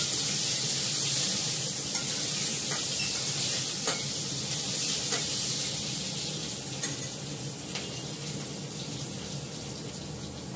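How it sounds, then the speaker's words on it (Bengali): Potatoes fry in a pan on a gas stove, a steady sizzle with occasional stirring scrapes and clicks, close and continuous throughout. "আলুটা ভেজে এর মধ্যেই মাংসটা দিয়ে দেবো"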